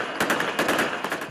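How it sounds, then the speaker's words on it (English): Bursts of celebratory gunfire ring out in Syria, quick rapid volleys of close, sharp automatic shots with a clattering echo between bursts, and no voices. "Gunshots to celebrate the moment many in Syria waited for decades to see."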